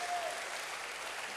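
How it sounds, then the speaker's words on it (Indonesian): A church congregation applauds in praise of God, a dense, even wash of many hands clapping that holds steady for a moment at moderate distance. "Berikan tepuk tangan bagi Tuhan."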